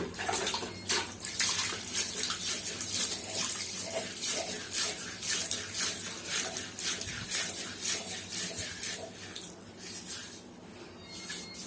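Fish being washed by hand in a basin of water, with continuous close splashing and sloshing in quick, uneven bursts that ease off near the end.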